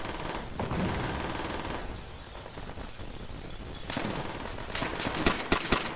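Automatic machine gun fire in the shooter game World at War rattles in rapid bursts at moderate distance, fairly quiet, easing off midway before sharper, louder shots return toward the end.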